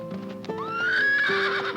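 A Paso Fino horse on a ranch gives a loud, close whinny that rises and holds in a long tonal call, with a few hoof clip-clops underneath.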